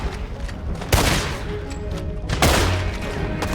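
Gunfire in the video game Red Dead Redemption 2 comes as two loud, booming shots about a second and a half apart, with rumbling echo between them.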